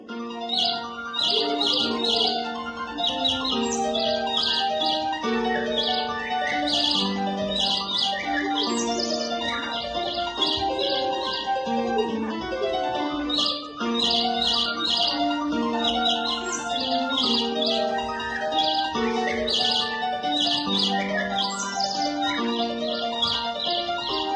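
Bright, repeated bird chirps and tweets ring out over a steady melodic background at a children's spring celebration, continuing in lively bursts throughout.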